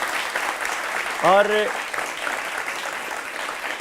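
A steady wash of audience applause rolls on throughout, fairly soft and distant, with a single brief spoken word breaking through near the start.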